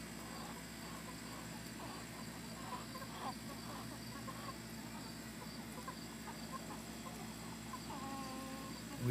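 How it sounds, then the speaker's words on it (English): Chickens cluck faintly around a newly built long chicken coop, with soft, scattered calls over a steady low background hum and no talking. "here comes some chickens"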